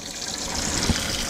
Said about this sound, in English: Open this valve until water starts to flow. It'll fill up until it starts to dump out the top of this tube.